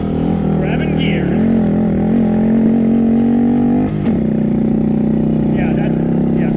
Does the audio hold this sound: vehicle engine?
yes